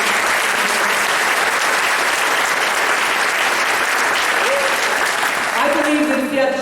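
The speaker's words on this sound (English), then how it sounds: "applaud for them." An audience applauds at a 2019 convocation ceremony, a dense, steady roar of many hands that stays full throughout, with a faint voice surfacing near the end.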